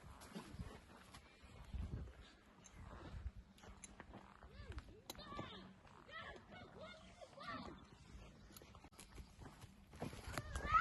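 Horse hooves clip-clop faintly in an uneven rhythm as a ridden horse moves through a village, with occasional voices in the distance.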